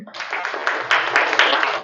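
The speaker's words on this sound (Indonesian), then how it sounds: "tepuk tangan untuk Mbak Wiwit" A classroom of students claps for a classmate who has stood up, a dense steady patter of many hands lasting under two seconds, with no talking over it.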